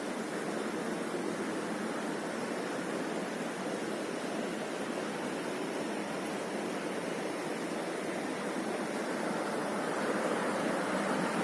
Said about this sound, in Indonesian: Air terjun kecil sini, pojokan.